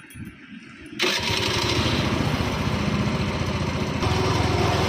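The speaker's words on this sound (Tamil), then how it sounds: "இப்போ வண்டி ஸ்டார்ட் பண்ண போகிறோம்." A vehicle engine cranks briefly, then catches and settles into a loud, steady running drone that continues to the end, with no voices.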